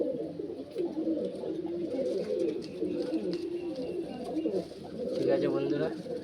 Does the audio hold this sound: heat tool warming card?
no